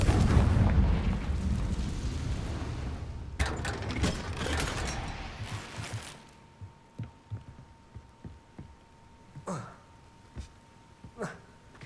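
A booming blast from a Confringo blasting curse in a Harry Potter parody, a loud rumbling explosion that rolls and fades into scattered crackles and debris clatter; a voice speaks briefly.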